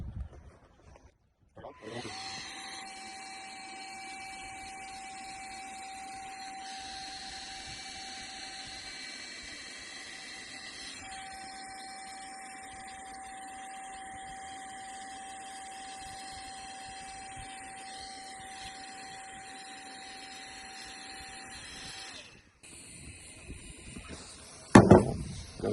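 A Vogma wireless three-speed compressed air device inflates a bag with a steady, high, whining hum that runs unbroken for about twenty seconds before cutting off, followed by a short clatter of handling.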